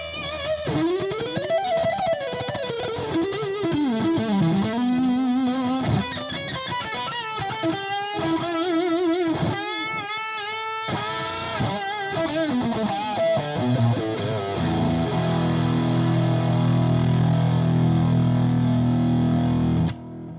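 An electric guitar played through a Boss JB-2 Angry Driver pedal, with drive at full and tone and output at three o'clock, gives a loud, buzzy, saturated tone, first as fast melodic runs and bends, then as sustained chords ringing out at the end.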